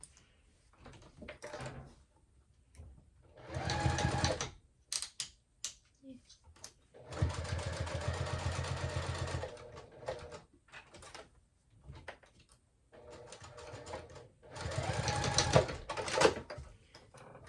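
A sewing machine backstitches a wristlet clutch in several short whirring bursts separated by pauses, close and moderately loud, with a voice talking in between.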